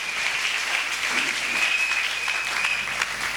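A church congregation bursts into steady, dense applause, sustained evenly from start to finish with no pause, a bright continuous patter of many hands.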